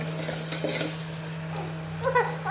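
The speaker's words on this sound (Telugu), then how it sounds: "సాల్ట్ వేసుకుని ఉల్లిపాయలని మగ్గించాలి నూనెలో." Onions frying in oil with salt in a pan for a mutton curry with cucumber, a steady close sizzle with scraping stirring strokes and a few utensil clinks against the pan, no voices.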